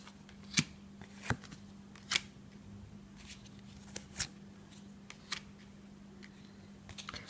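Tarot cards are shuffled and drawn in a quiet room, giving soft, sharp slaps and riffles at irregular intervals against a faint steady hum, with no talk.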